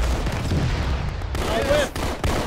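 Rocket launch and heavy weapon fire in an ArmA zombie battle, a loud dense rumble of booms and shots with a brief whooshing streak midway and voices shouting over the din.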